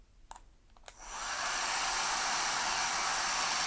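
A blow dryer switches on after a couple of soft clicks and blows a loud, steady rush of air to keep a plastic ball floating, the hiss holding constant to the end.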